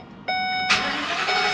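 Stolen truck's engine cranking and catching after a key turn, with dashboard chimes beeping steadily, then the motor settling into a close, even idle.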